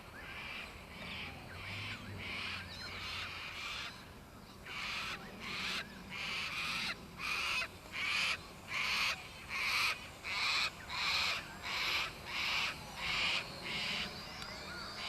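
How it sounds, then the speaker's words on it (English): A crow calls repeatedly in a steady series of harsh caws outdoors near a small drone in flight, the calls fairly distant and rhythmic with no talking. "there is a crow around here"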